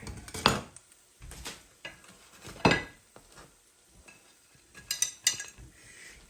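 A pan of eggs is lifted off a stove burner with metallic clanks and scrapes of cookware, several distinct knocks spaced apart, then lighter clinks near the end, close by with no talking.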